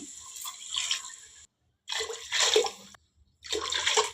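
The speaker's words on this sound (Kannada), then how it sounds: "ಎರಡು ಲೋಟ ಅಕ್ಕಿಗೆ ನಾಲ್ಕು ಲೋಟ ನೀರು ಹಾಕ್ಕೊತೀನಿ" Water poured in three separate splashing bursts into a pot of rice, close and fairly soft, with short silent gaps between pours.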